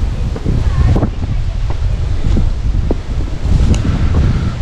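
Strong wind gusts roar through the woods, a loud, continuous rushing with buffeting on the microphone and occasional crackling knocks.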